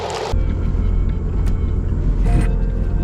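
An off-road vehicle climbing an obstacle at an adventure park, its engine a steady low rumble throughout, loud and close, with a brief sharper burst at the start and short rises later.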